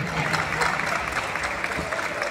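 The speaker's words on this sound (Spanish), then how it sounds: "Aplauso, aplauso para los niños" Applause greets a children's football team being presented at the Copa Agropecuaria Nueva Era tournament: dense, steady clapping from a crowd that runs continuously without a break.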